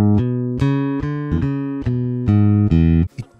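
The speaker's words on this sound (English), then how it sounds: "So if I was to play like a walking bass line," A walking bass line on a piccolo bass, eight distinct plucked notes in a steady stepping rhythm, each clear and ringing, ending with a brief muted scrape.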